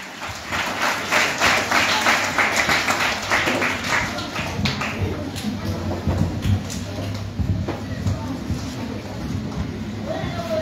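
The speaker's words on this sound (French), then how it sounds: "avec vos applaudissements s'il vous plaît" Guests at a family gathering applaud in a broad, steady wash of clapping that fades slightly toward the end, with crowd murmur and a low hum underneath.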